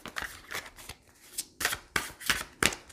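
Tarot cards being shuffled and pulled from the deck, a run of quick riffling bursts in uneven rhythm, close and crisp, with no voices.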